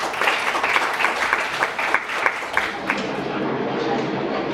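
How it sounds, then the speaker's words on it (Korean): Audience at a symposium on the independence movement and constitution applauding to welcome a speaker, a steady moderate clapping that thins out and fades after a few seconds. "박수로 맞이해 주시기 바랍니다."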